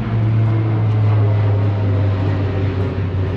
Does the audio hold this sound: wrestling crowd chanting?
no